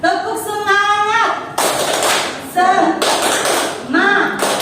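A school class performs the 'tepuk semangat' clapping chant, bursts of group clapping alternating with loud shouted voices in a steady call-and-response rhythm.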